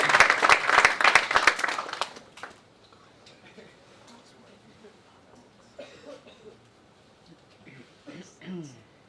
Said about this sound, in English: round of applause for Hack Campus.